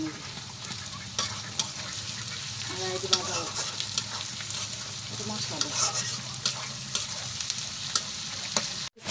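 Onion and garlic sizzle and fry with spices in a pan, a steady close crackle broken by occasional scraping stirs, heard alone without talk.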